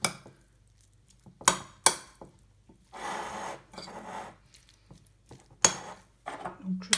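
Tuna and coriander filling mixed in a bowl, with sharp utensil clinks and scraping, rubbing strokes against the bowl coming in separate bursts, close, with a little background voice.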